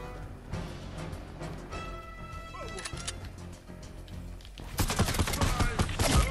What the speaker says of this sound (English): the henchman's shooting a pistol at me